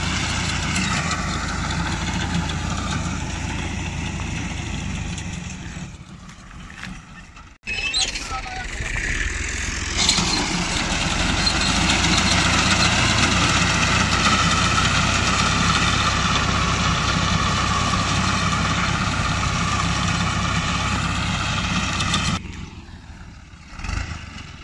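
A Holland Ghazi tractor engine runs steadily while it drives wheat harvesting and cutting machinery outdoors. The drone is loud and continuous, with a brief dip partway through and a quieter stretch near the end.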